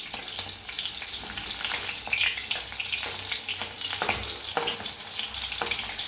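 Slit green chillies fry in hot oil for baingan bharta, giving a continuous close sizzle dotted with crackles and occasional stirring knocks.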